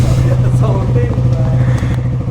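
Unsilenced motorcycle exhaust thrums loudly and steadily up close while a person talks over the engine noise.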